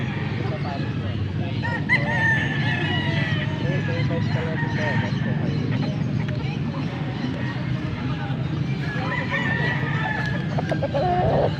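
A stag gamecock rooster clucks and crows at a Pampanga gamefowl sale, the calls standing out over nearby men's chatter and general outdoor crowd noise.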